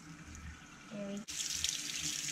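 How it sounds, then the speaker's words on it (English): A tap starts running partway through to rinse an egg geode, giving a soft rushing stream of water into a sink after a few quiet clinks. "And now let's rinse it off."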